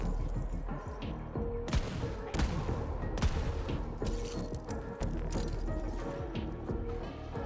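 Rapid gunfire from a weapon in the shooter game Borderlands 3, sharp repeated bursts over a dense layer of game effects and music.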